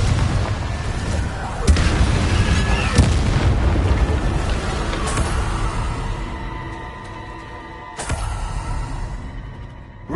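A magical explosion spell cast in the Hogwarts Legacy video game, loud rumbling booms and blasts with sharp bangs and a long fading roar.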